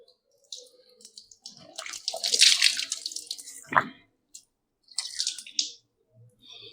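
Water splashing as the face is washed during wudu, heard as irregular wet splashes and trickles in close bursts, with short pauses between handfuls.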